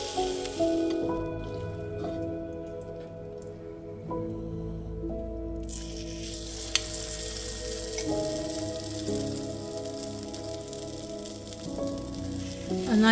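Æbleskiver batter poured into a hot Æbleskiver pan, a steady close sizzle and crackle of frying that swells as more batter hits the pan, with soft drips.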